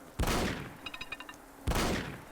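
Two loud, close booming blasts from a pipe shotgun in Fallout 4, about a second and a half apart, with a quick mechanical rattle of clicks between them and no talking.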